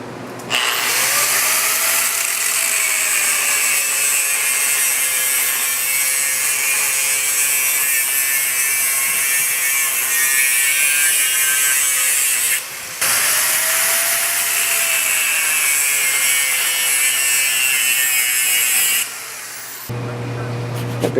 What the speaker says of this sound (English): got the first one marked, and it's in the vise, and I'm going to try to cut it as accurately as I can